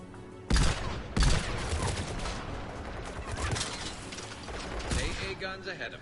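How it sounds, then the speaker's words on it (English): Anti-aircraft guns firing in Mass Effect 3, a dense barrage of rapid shots with two sharp heavy blasts near the start, continuing as a busy clatter of gunfire and mechanical rattling. "AA guns ahead of us."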